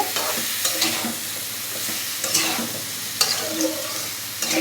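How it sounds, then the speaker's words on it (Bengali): Sweet pumpkin pieces sprinkled with a little sugar frying in a pan, stirred with a spatula: loud close scrapes and clatters in irregular bursts over a soft sizzle, no talk. "তো এখন নাড়াচাড়া করে"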